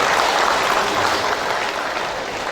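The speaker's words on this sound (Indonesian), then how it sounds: "mari sekali lagi kita berikan aplaus untuk Ikaswara" An audience at the 2018 Ikaswara board inauguration claps for Ikaswara, a dense, loud, steady round of applause that eases slightly toward the end.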